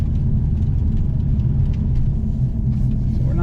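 Hyundai Elantra N with a dual-clutch transmission, a 2022 model, driving gently on salted residential streets, with a steady low engine and road rumble throughout and no talk.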